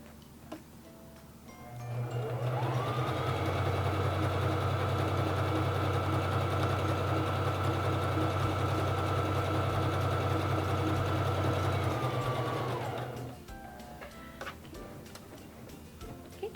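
A Singer Fashion Mate 3333 sewing machine sews a wide zigzag stitch, starting up and holding a steady, fast mechanical whirr with rapid ticking for about eleven seconds before stopping, loud and close with no talk.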